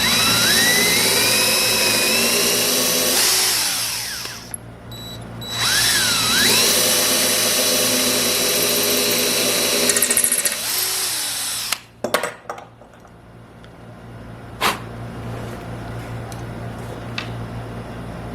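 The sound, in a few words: power drill drilling main hole for screw shaft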